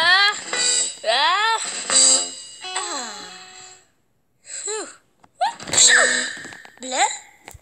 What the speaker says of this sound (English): You just sneezed.